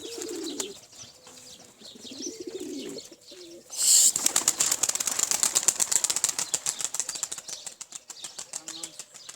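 Pigeons burst into flight with a sudden loud clatter of flapping wings that continues as rapid rhythmic beats, preceded by a few soft low coos and no voices.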